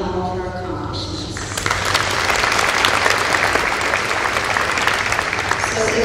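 An audience applauds at a university graduation recognition ceremony, clapping building from a voice over light applause into a full, sustained round that carries on to the end.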